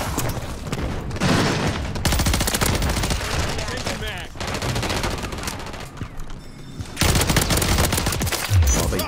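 Rapid bursts of BP50 assault rifle fire in Modern Warfare III, loud sustained automatic volleys with short breaks between strings, filling nearly the whole stretch.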